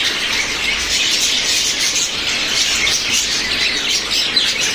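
Pet finches chirp and squawk continuously in a dense, close chorus of high, busy calls with no pauses.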